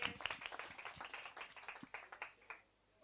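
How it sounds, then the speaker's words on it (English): A small audience claps briefly after a talk, a light patter of hands lasting a few seconds before fading out, heard faintly and somewhat distant. "Round of applause for that"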